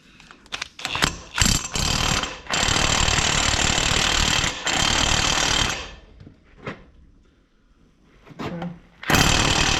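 A power tool with a nut socket works on a fastener of an old excavator, giving loud rattling, hammering bursts that run for several seconds, pause, then return in shorter stuttering jabs.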